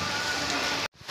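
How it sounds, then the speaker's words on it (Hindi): Heavy rain pours down in a steady, dense hiss at close range, then abruptly cuts out near the end before the noise returns. "बारिश बहुत तेज आ गई है।"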